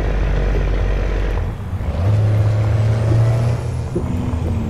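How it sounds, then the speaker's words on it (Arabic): Truck air brakes in American Truck Simulator hiss loudly at the start, then cut off, followed by a steady low engine rumble and tonal drone from the simulated rig, with no voices. "سمعتو كي تفريني الصوت كيفاه داير"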